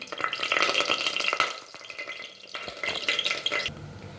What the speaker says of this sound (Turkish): Şimdi makarnamızı dökelim. Evet arkadaşlar şimdi döküyoruz. Makarnalarımızı döküyoruz.